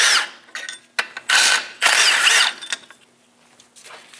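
An 18mm socket on a power tool loosens the two front brake caliper bolts on a Chevrolet Express 2500 van, in several short, loud whirring bursts separated by brief pauses, with quieter clatter toward the end.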